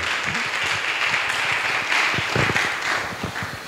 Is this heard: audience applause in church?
yes